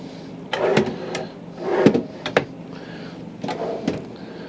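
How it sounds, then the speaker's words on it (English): Big pull-out drawers in the kitchen of a 2006 Jayco Seneca 34 SS Class C diesel motorhome slide open with three separate sliding rumbles and clunks, fairly close and moderately loud in a quiet interior. "nice big pull out drawers"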